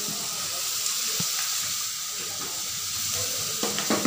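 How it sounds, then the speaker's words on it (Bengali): Potatoes fry in a pan, giving a steady, moderately loud hiss and crackle of hot oil with a few soft clinks near the end. "দেখো আলুগুলো সুন্দর লাল লাল ভাজা হয়ে গেছে"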